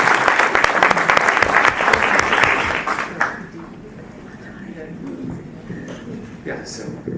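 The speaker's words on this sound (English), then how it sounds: "let's give them both a round of applause for coming over" An audience at a WBC Australia event gives a lively round of applause for about three seconds, clapping densely before fading out, with a voice continuing afterward.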